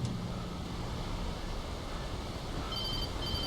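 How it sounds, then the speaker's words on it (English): A cell phone rings inside the Alan Wake video game, a repeating electronic tone that starts near the end over a low, steady rumble of game ambience. "Oh, cell phone."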